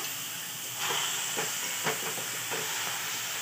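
Milk poured into a coconut mixture in a hot pan for coconut barfi gives off a continuous loud hiss of steam and sizzle, with a few soft stirring knocks.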